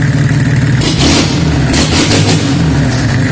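A Nissan Laurel C34 RD28 diesel engine is revved with sharp throttle blips, loud and close, rising quickly from idle in a couple of bursts before settling back.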